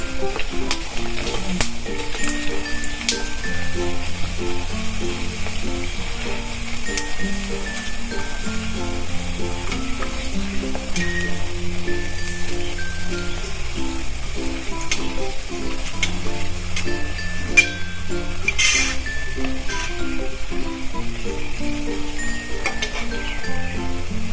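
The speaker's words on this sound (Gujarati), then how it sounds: "તો આપણું તેલ ઓલમોસ્ટ આવી ગયું છે. તો આપણે એમાં નાખી દઈશું." Methi masala puris deep-frying in hot oil, a constant loud bubbling sizzle with occasional clinks, beneath steady background music.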